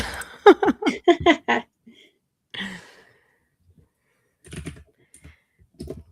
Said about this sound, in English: You get that mechanical typing